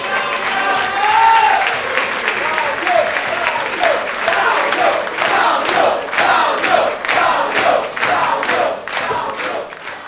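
An audience applauds a maestro at an Italian music evening, loud sustained clapping mixed with cheers and shouts, settling into rhythmic, evenly timed claps toward the end.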